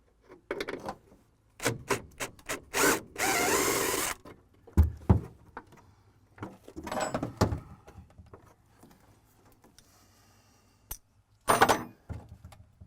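Sporadic metallic clinks and clanks, faint and irregular, come from a 1/2-inch combination wrench working bolts loose under the dash of a Ford Galaxie.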